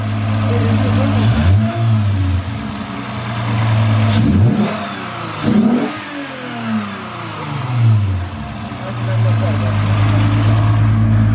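With its new intake, a Lexus IS350 F Sport idles steadily and then revs sharply several times, each climb quickly falling back to idle. Nearby voices are heard under the engine.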